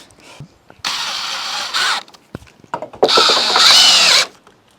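A power drill drives screws into a wooden porch railing in two sustained whirring bursts, each lasting about a second, close and loud, with brief handling knocks between them.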